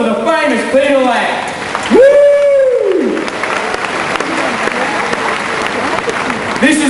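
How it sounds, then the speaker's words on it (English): Audience at a live crocodile show breaking into a big round of applause, steady clapping throughout with a loud voice calling out over it. "Big round of applause"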